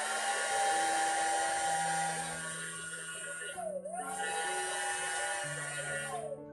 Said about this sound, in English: this is a nail dryer from Miniso